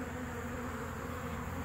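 Honey bees crawling on a hive frame, giving a faint, steady buzzing hum with a low drone and no talk.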